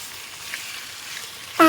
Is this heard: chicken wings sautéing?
yes